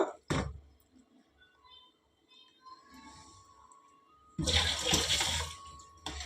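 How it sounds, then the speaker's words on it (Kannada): Water is poured and splashed over homemade butter being washed in a kitchen, a short splash at the start, faint trickling, then a louder gush of pouring water near the end. "ಇದನ್ನು ಆದಷ್ಟು ನೀರು ಹಾಕಿ ಹಾಕಿ ಹೀಗೆ ತೊಳ್ಕೊಳ್ಬೇಕು"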